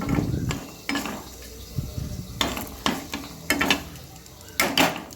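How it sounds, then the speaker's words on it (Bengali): Mixed vegetables for shukto cooking in a covered pan are stirred well, giving several distinct scraping strokes against the metal over a low background sizzle. "আমি এটা আর একবার ভালো করে নেড়ে তারপরে নামিয়ে নেব"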